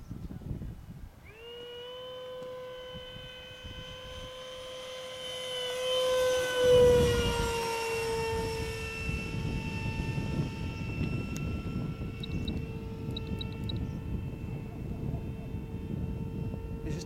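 Electric RC Eurofighter 2000 jet model running its fan motor with a steady high-pitched tonal whine that dips and swells slightly, heard from nearby over outdoor background noise throughout.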